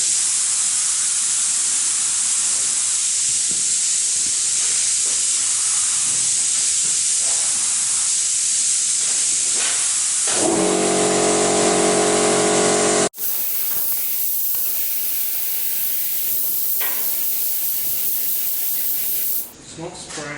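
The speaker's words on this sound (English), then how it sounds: "It's not spraying nice." A paint spray gun hisses loudly and continuously while painting a Hilux flare, the close spray rising in force around the middle, cutting briefly and then resuming, with a short drop near the end.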